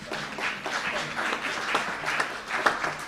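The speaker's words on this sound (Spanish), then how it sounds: "Un aplauso al Señor." A church congregation applauds for the Lord, a sustained round of clapping from many hands, moderately loud and close, with a few louder claps near the end.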